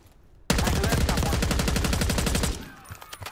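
A sustained burst of rapid automatic gunfire in Call of Duty Black Ops 6, loud and close, about two seconds of evenly spaced shots cutting off abruptly, followed by faint scattered sounds.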